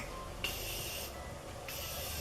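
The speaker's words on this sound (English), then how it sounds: "I'm gonna grab my setting spray, and I'm actually going to spray my face now" Two short bursts of fine makeup setting spray hiss, close up, each lasting about half a second, over a quiet background.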